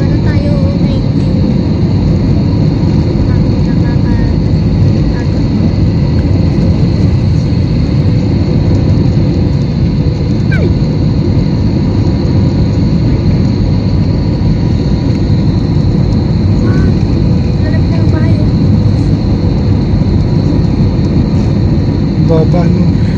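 Steady loud cabin roar of a passenger airplane during landing, a dense low rumble with engine whine that stays constant throughout, with a child and adults faintly talking underneath.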